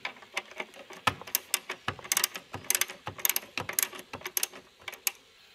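A hand ratchet clicks in rapid bursts while tightening bolts during an EVAP system repair, with sharp, close, uneven ratcheting strokes and brief pauses between them.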